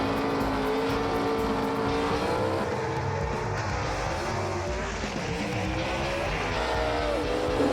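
A gasser drag race car makes a pass down the strip, its engine a continuous, loud roar with shifting harmonics that holds steady across the whole run, with no voices over it.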